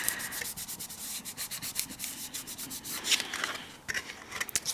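Paper card stock pressed and rubbed down by hand to stick it in place on a small gift box, a close, continuous scuffing and rubbing with brief louder swipes.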